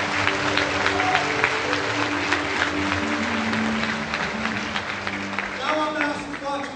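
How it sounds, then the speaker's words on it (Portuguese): A church congregation at a Sunday service claps loudly in praise. A dense, sustained roar of applause runs throughout, with an amplified voice and tonal sounds carrying over it. "Dá um aplauso forte ao Senhor."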